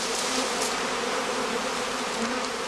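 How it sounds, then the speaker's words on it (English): A honeybee swarm, just shaken into a heather skep in an apiary during cast swarming, hums as a dense, steady buzz of many wings, close and loud throughout with no voices. "With a jolt, he shakes the swarm clusters into a catching skep."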